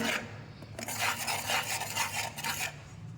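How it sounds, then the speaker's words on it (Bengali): A masala paste with cashew nuts and poppy seeds is stirred in a pan over a low flame, giving quiet, rhythmic scraping strokes of a spoon against the pan with a faint sizzle and no talking. "আস্তে আস্তে এটাকে কষাতে হবে।"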